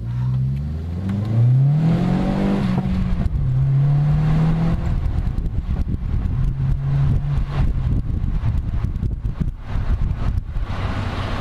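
VW Golf 4 GTI 1.8T with a Milltek exhaust accelerates hard from 0 to 80, engine note rising through the gears with a shift pause, heard close from inside and mixed with heavy wind buffeting.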